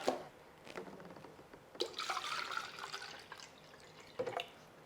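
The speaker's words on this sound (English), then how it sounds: "going to give this a little bit of water through" Water poured into the soil of a potted philodendron, with a close, soft trickle and splashing that swells for a couple of seconds, then a few scattered drips.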